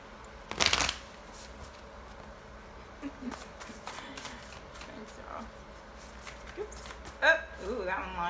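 Tarot cards being shuffled by hand during a reading, with a loud riffling burst near the start and softer intermittent card slides and taps later, while a voice talks quietly in the background.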